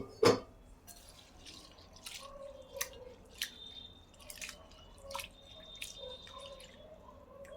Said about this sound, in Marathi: स्वच्छ असं 2-3 पाण्याने मी ही डाळ धुवून घेतलेली आहे